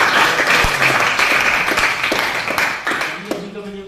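Audience applause fills a teaching performance assessment event, steady and fairly loud, with a voice speaking over the clapping as it begins to thin out near the end.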